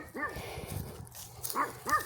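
A puppy barks and yips at a drone overhead, three short sharp barks close by with brief whimpery sounds between them, outdoors while plants are being watered.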